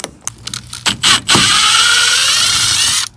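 A ratchet wrench on 5/8 bolts holding the door handles of a 1968 Ford F250: a few quick clicking strokes, then a loud sustained whirring buzz for nearly two seconds, close up.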